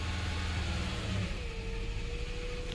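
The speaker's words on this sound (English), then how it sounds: "We can feel the engine is misfiring." A Nissan Frontier engine runs rough with misfires after a long crank, a steady loud mid-pitched engine drone with uneven low pulsing throughout.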